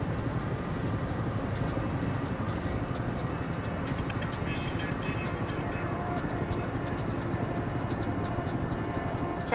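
Helicopter gunships in the war game Tom Clancy's EndWar give off a steady rotor drone, mixed into a dense, continuous bed of battlefield noise with faint radio chatter and no clear break throughout.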